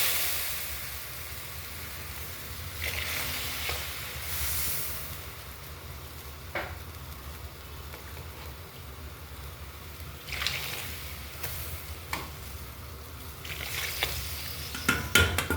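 Spices toast quickly in a hot pan with a steady, fairly soft sizzle, while a utensil scrapes and stirs in occasional sharp clicks and clatters, close by, with no one speaking.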